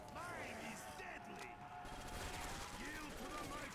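FG-42 rifle fire in World at War custom zombies comes in rapid bursts of gunshots, mixed with game effects and zombie noises, while a voice talks over the action.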